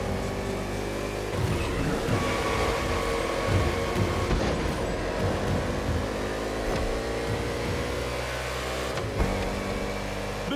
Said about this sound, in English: The green flag is in the air, and we are racing in a purely urban race here in Hawaii.